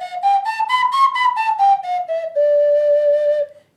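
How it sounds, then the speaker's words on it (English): Small pointed song flute with a thumb hole in the back plays a short run of clear, whistle-like notes that rise and then fall, ending on one long held tone, close and alone. "Then I have a little song flute, if I can find it, right here."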